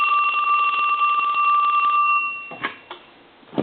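A Snoopy novelty telephone being tested after repair rings with a steady electronic bell trill for about two seconds, close and loud, followed by a few soft clicks and handling knocks.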